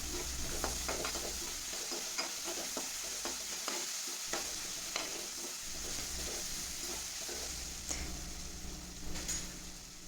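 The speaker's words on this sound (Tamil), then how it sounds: "இதெல்லாம் நல்லா வதங்குற வரைக்கும் வெயிட் பண்ணலாம்" Onions and cashews sauté in a pan for restaurant-style paneer butter masala, a steady close sizzle broken by repeated scraping strokes of a stirring spoon, with no talk over it.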